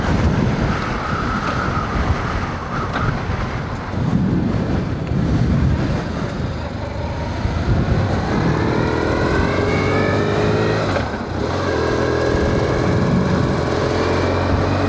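A 2001 BMW R1150RT motorcycle is ridden on the road, its engine droning steadily and then climbing in pitch as it accelerates, under heavy wind rush across the microphone.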